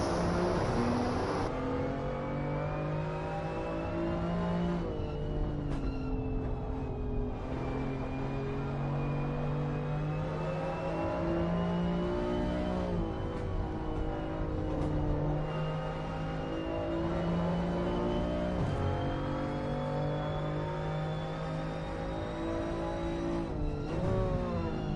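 BMW M2 driven on a lap, the engine a loud continuous drone with pitch rising and falling through acceleration and gear changes, steady and unbroken with no voices.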